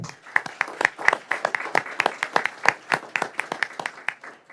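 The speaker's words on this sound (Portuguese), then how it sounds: "peço uma salva de palmas" Applause at the opening ceremony of a freight and fleet seminar, brisk clapping from a gathered crowd, loud and close with dense irregular claps throughout.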